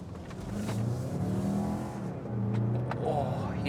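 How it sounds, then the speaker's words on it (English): A car engine revving in sport mode with a faint turbo whistle, rising and falling through two surges up close, with brief talk from people inside. "Oh, you can hear the turbo. Yeah, bit of a whistle."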